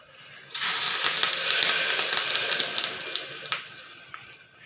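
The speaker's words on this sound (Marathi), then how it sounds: "मी आता 3 वाट्या पाणी ओतणार आहे" Water is poured into a pot holding soaked dal and rice, a bright, splashing hiss that starts suddenly, runs steadily for a few seconds, then tapers off with a few small drips and clinks.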